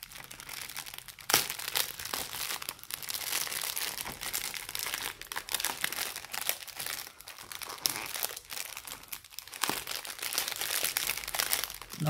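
Close, continuous paper crinkling and rustling, with sharper crackles now and then as the wrapping is pulled and handled.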